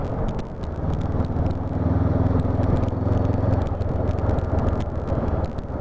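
A 2020 Honda CB500F motorcycle engine lugging in sixth gear at about 30 mph under full throttle, a loud, close, steady low chugging drone with wind rush throughout, no talk.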